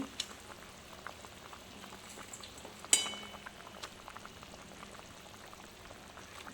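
Fried fish pieces slipped into a simmering Bengali fish curry: a faint, steady bubbling with one sharper splash partway through, no voices.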